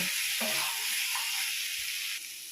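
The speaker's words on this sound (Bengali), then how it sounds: "এর মধ্যে আমি দিয়ে দিচ্ছি ডিমগুলোকে আমি 2 মিনিট এইভাবে নাড়াচাড়া করে নেব" Eggs sizzling in hot oil with ginger, garlic and onion masala for egg korma, a steady loud frying hiss with a few soft stirring scrapes, close by and without talk.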